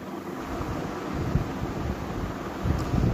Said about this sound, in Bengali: তো এবার ওই তেলের মধ্যে আমি দিয়ে দেবো একটুখানি কালো জিরে ফোড়ন